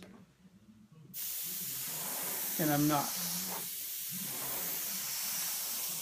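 A steady airy hiss of a spray gun painting drop-shadowed flames on a helmet runs throughout, with someone talking briefly over it.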